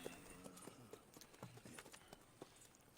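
Hooves of an English Thoroughbred horse clip-clop in Red Dead Redemption 2, a quick uneven run of soft thuds close by at low level, with faint game ambience underneath and no talking.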